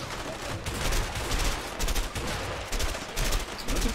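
Sustained gunfire from the video game Army of Two, dense rattling bursts of automatic fire running almost continuously, loud and close, with brief gaps between volleys.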